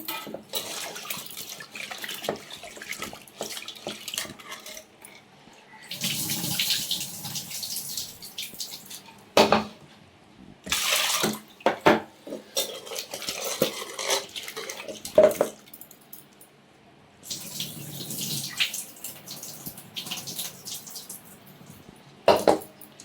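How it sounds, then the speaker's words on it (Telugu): Lentils, two tomatoes and an onion washed under a running tap, with splashing water in several bursts that stop and start, close and fairly loud, and no talk. "2 టమాటాలు, 1 ఆనియన్ వేసుకొని 2 సార్లు కడుక్కోండి."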